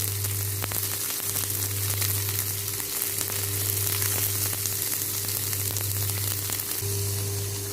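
Chopped onion sizzles in a tablespoon of butter in a pan on a tawa, a steady close frying hiss with faint crackles throughout.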